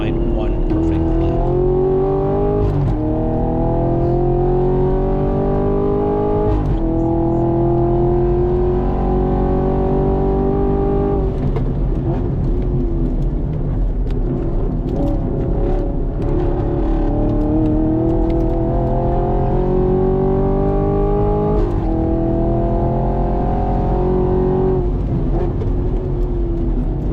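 A 2024 Camaro SS1LE on a track hot lap, its loud engine revving hard and continuously, pitch climbing through gears with brief shift drops, steady and close throughout.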